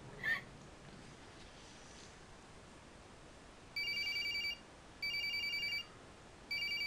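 A telephone rings in the horror game Corpse Party: three bursts of electronic ringing, each under a second long and separated by short pauses, clear against a quiet hiss after one brief earlier sound.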